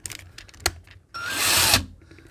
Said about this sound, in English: So let's try and drill this out without ruining it.